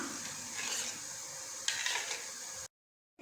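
Sugar being stirred into coconut milk in a pot: repeated scraping swishes of a spoon at close range, then an abrupt stretch of silence.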